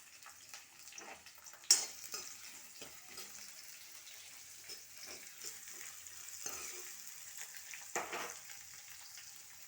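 Onions fry quietly in hot oil in a pan for a curry, giving a soft, uneven crackle and sizzle with a few sharper spits and stirring sounds, with no talk.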